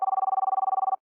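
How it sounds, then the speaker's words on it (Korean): A telephone ring in a Detective Conan anime scene: a steady, rapidly pulsing electronic trill of about eighteen quick beats in one second, loud and alone, stopping abruptly. "이렇게 키드와 대치 중일 때 공명에게 걸려오는 전화 한 통"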